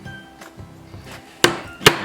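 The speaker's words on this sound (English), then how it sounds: "we're going to take just a sharp rap with your chisel" Two sharp raps on a chisel cutting into a wooden source board, sudden loud strikes close together after a few softer taps.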